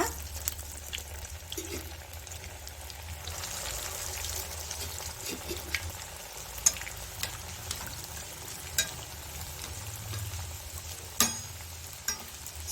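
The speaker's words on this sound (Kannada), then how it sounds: "ನಾವು ರೆಡಿ ಮಾಡಿ ಇಟ್ಕೊಂಡಿರೋ ರೋಲ್ನ ಎಣ್ಣೆಯಲ್ಲಿ ಫ್ರೈ ಮಾಡಿ ತಗೊಳ್ಳೋಣ" Paneer veg rolls deep-frying in hot oil in a kadai give a soft, steady sizzle and bubbling, with a few light clicks and taps from utensils, close and fairly quiet.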